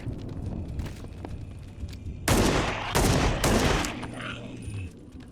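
Gunshots in the Flesh Reborn video game: three loud, close blasts about half a second apart, each with a sharp crack and rumbling tail, against a quiet background.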